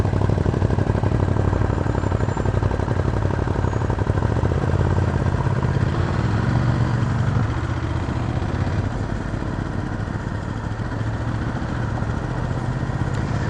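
A motorcycle engine drones loud and steady while riding through an industrial park, a dense continuous rumble with a slight drop in pitch partway through.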